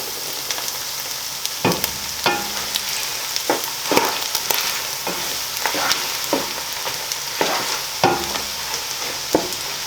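Garlic frying with meat in a pan for Batanes-style Valenciana, a loud continuous close sizzle punctuated by regular scraping strokes of a spatula against the pan.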